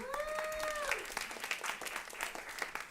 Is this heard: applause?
yes